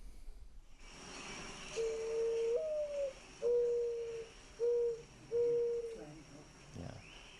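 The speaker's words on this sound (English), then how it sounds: "here's a mourning dove call" Mourning dove call played back through a phone speaker indoors: four soft, hollow cooing notes, the first rising then drawn out, followed by three shorter coos, fairly faint over low room noise.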